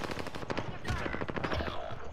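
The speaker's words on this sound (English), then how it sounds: "I'm getting shot at" Rapid automatic gunfire in the battle royale video game Warzone, dense overlapping bursts of shots at close range, continuous and loud throughout.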